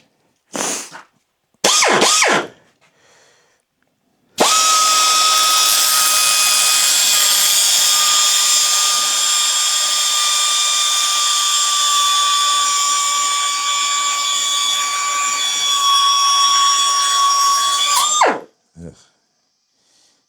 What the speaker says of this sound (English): These cutoff wheels are good for 2 bolts to cut.